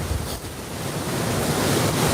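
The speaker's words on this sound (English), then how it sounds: "the wind's definitely starting to pick up a bit now. The trees are getting absolutely battered" Gale-force wind batters trees in a strong storm blowing across the River Mersey area near Liverpool, giving a loud, steady roaring rush that swells toward the end with no voices heard.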